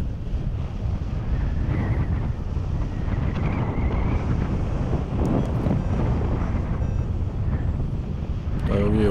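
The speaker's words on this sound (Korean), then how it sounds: "바람 소리가 시원하게 쭉쭉 가고 있습니다." Strong wind rushes and buffets steadily and loudly across the microphone throughout, a dense roar while flying near reservoirs and rice paddies, with a faint voice underneath.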